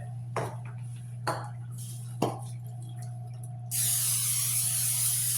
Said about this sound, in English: I'm going to spray the tray a little bit.